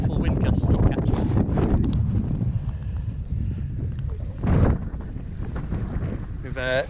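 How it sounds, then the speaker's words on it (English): A strong wind gust strikes a sailboat moored on a buoy in Bora Bora, a loud roaring rush that builds and swells in a burst near the middle, with creaks and a short rattling sound at the end. "There's a really powerful wind gust catching us."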